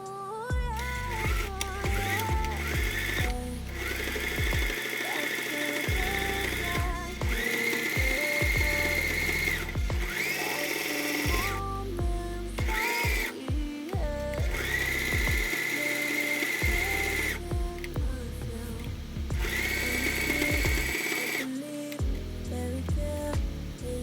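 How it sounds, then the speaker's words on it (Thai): Sewing machine stitching around a beret hat piece, a loud close whirring motor in repeated runs with short pauses between bursts as the fabric is turned, no talk. "จากนั้นนะคะก็นำไปเย็บทับรอบชิ้นงานแบบนี้เลยค่ะ"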